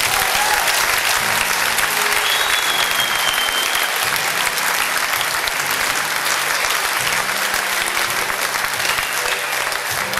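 A crowd applauds steadily and loudly at a stage event, dense clapping filling the whole span without a break or spoken voices.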